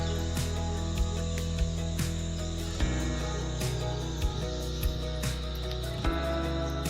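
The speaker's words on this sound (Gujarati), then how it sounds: "અત્યારે તો ભાઈ તમરાનો અવાજ જોરદાર આવે છે અહીંયા" Crickets chirp loudly and steadily outdoors at Bhavnath Taleti during a humid, rainy-season evening, a dense continuous trill with a few sharp clicks and no talking.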